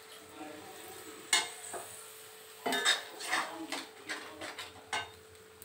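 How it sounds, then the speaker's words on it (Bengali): Spice masala being fried and stirred in a pan for a Bengali egg and whole brinjal curry, with a string of close metal-on-pan scrapes and clinks over a faint background, no talking. "মশলাটাকে ভালো করে ভাজবো।"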